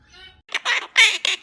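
An Eclectus parrot lets out a series of four or five loud, harsh squawks in quick succession, close by, preceded by a faint tonal whistle.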